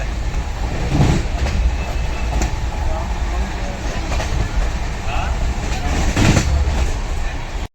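A passenger train runs steadily on its way into Rajpura Junction in Punjab, with continuous rumbling roar and rhythmic wheel clatter from inside the coach, periodic louder surges, and faint voices in the background.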